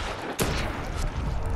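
A single gunshot in the zombie video game Dead Island 2, a sharp loud crack followed by a brief rumbling tail.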